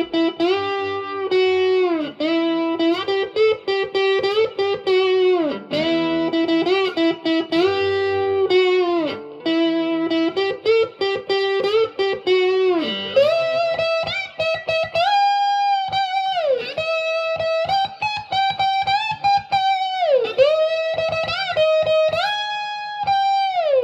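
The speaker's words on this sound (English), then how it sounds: "Sounds a bit better with distortion" A cigar box guitar through distortion plays a continuous melodic slide solo, loud and close, with sustained gliding notes and rapid picked phrases throughout.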